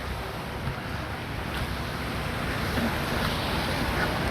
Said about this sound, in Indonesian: Ini air mengalir ke embung nih ya.